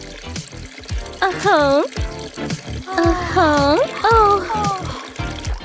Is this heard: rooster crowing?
no